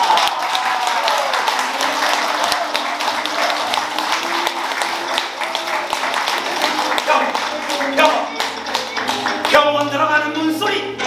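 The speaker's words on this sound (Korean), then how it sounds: "관객들 중간 박수 보낸다" Audience applause breaks out partway through a stage performance of Kim Yu-jeong's story 'Ttaeng-byeot' (Scorching Sun), a dense, steady patter of clapping across the whole stretch with faint voices or tones mixed in underneath.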